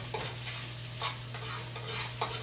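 Day-old rice is stirred in hot oil for chicken fried rice, producing a low continuous sizzle broken by several distinct stirring scrapes against the pan.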